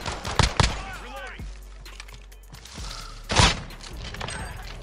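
Gunfire in Call of Duty: Modern Warfare, with several sharp shots in a quick burst early on and another loud shot later, under excited talk from players.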